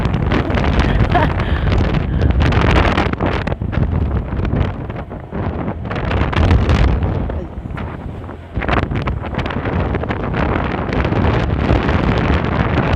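Strong, gusty wind roars and buffets the microphone outdoors, with voices talking faintly beneath the rushing noise.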